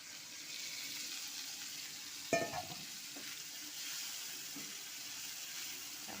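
Water poured into a pan of marinated, spiced chicken sets off a sudden loud burst of sizzling and splashing that settles back into a steady, quieter frying hiss.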